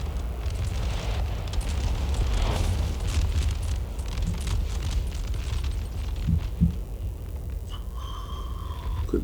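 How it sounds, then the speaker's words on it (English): Cannon artillery fire on a Napoleonic battlefield in Napoleon: Total War, heard as a steady low rumble of distant guns with dull booms and a few sharper reports, no speech over it. "And the cannons are hurting these guys"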